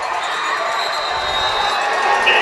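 A football crowd at a varsity high school game roars and cheers after an interception return, a dense, sustained wash of voices from the stands at moderate distance.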